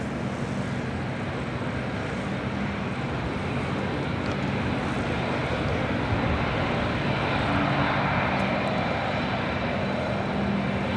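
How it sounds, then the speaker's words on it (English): An Airbus A380 airliner taxiing to cross a runway at LAX, a constant, heavy jet engine rumble and roar that stays steady and fairly loud throughout, with no talking. "Here comes Greener A380 about to cross"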